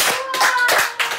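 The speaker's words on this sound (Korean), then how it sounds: "박수." Three or four quick bursts of hand clapping from a small group, close and brisk, during an outdoor interview shoot, lasting just over a second.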